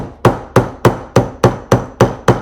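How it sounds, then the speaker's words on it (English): A hammer taps a wire ring eight times in an even, steady rhythm, closing a small gap, each strike sharp and close with a short ringing decay. "I'm just trying to hammer where that little gap was"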